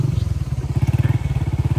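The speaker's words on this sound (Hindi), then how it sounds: "बस वासित भाई ने मज़े लिए क्योंकि वो बाइक पे हैं" A motorcycle engine thrums steadily and loudly up close, its rapid pulsing putter continuous as it rides along a mountain road in Koltor Valley.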